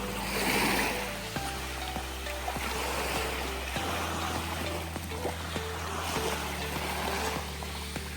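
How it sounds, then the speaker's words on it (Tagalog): Waves rolling onto a white-sand beach with seagrass exposed at low tide in Marinduque, Philippines, a steady broadband wash of surf with a low rumbling hum underneath, continuous and fairly close, with no talking. "Yan na yung pinakamalakas na alon na nakita ko dito sa Marinduque."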